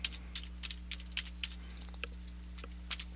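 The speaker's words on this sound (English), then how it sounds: "So I'm going to type MrG website." Short clusters of light, crisp keystrokes tap on a computer keyboard over a low electrical hum as a folder name is entered, ending with a sharper key hit.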